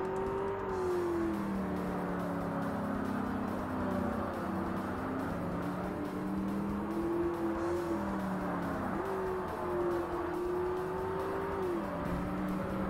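Race car engine in Forza Motorsport during an endurance A Class race, a continuous close drone whose pitch rises and falls through gear changes and corners, loud and steady, with no one speaking.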